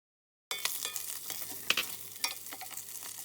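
Spring onion, ginger, dry chili and star anise hit a hot pan after a brief silence, giving a close, steady sizzle with light stirring scrapes and a few sharper clicks of spatula on metal.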